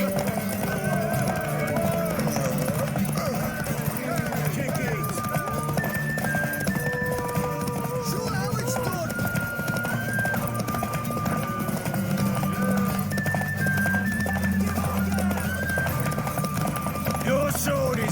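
A horse gallops in The Witcher 3, a fast continuous clip-clop with an occasional neigh, heard under ongoing talk and game music.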